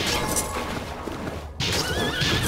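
A horse neighs loudly in Bloodstained: Ritual of the Night, a whinnying call that breaks off briefly and then resumes, close and clear, with no speech.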